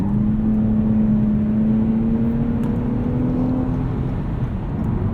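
A 2020 Toyota Camry TRD V6 drives at speed around an entrance ramp on a greasy road, its engine droning steadily with a sustained tonal hum over constant road and wind noise, loud and close throughout.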